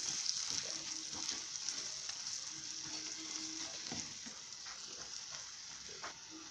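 Chilli powder and garlic sautéing briefly in oil for a garlic kuzhambu make a faint, steady crackling sizzle with soft stirring taps, heard alone.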